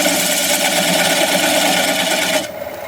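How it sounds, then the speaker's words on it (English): A maple burl bowl spinning on a wood lathe at about 530 RPM while a half-inch bowl gouge cuts away the tenon, a loud continuous whirring scrape that drops off sharply near the end. "Going to grab a 1/2 inch bowl gouge and commence removing that tenon."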